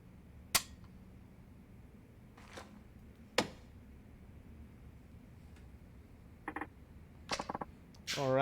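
Rubber-bullet gunshots from Yakuza 4 Remastered, several sharp isolated cracks spaced seconds apart over a quiet background, with a cluster of quicker clicks and pops toward the end.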